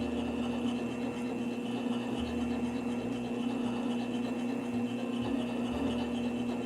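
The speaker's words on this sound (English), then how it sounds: "I'm using the darkside lap for polishing in cerium oxide" A darkside faceting lap polishing a helenite gemstone in cerium oxide, a continuous even whirring hum with a steady grinding rub, close and unbroken.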